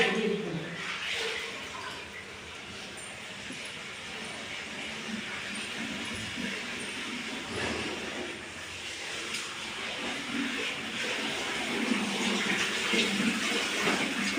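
Water running and splashing during house cleaning, a continuous rushing wash with occasional knocks as people talk over it.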